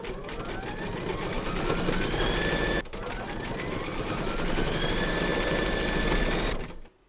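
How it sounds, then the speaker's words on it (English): An embroidery sewing machine stitches a design in thread, giving a continuous fast mechanical whir with a rising and falling pitch. The whir pauses briefly once and stops near the end. "Load your matching bobbin and thread colour for the colour of his eyes into your machine and then stitch round number 6"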